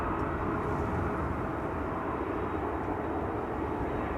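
A KLM Boeing 777 is pushed back at Amsterdam Schiphol Airport under a steady, dense roar of jet engines and apron noise, loud and unbroken throughout.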